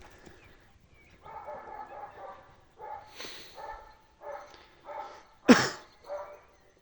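A pet dog barking during a game of fetch, a series of short barks in bursts, close and moderately loud, with one sharper louder bark near the end.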